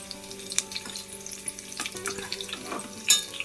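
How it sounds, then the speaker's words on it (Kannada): Leaves frying lightly in coconut oil, a soft, fairly quiet crackle with scattered pops and occasional utensil clinks, heard close with no talking. "ಇದು ಫ್ರೈ ಆಗಬೇಕು ಕೊಕೊನಟ್ ಆಯಿಲಲ್ಲಿ"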